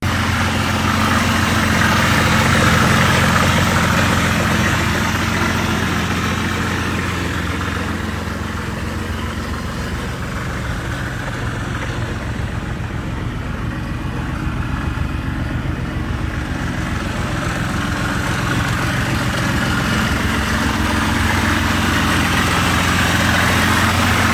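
A 1982 Buick Century Custom sedan with the rare 4.3-liter V6 diesel engine idles in a steady, rumbling drone that stays loud and continuous and dips slightly midway.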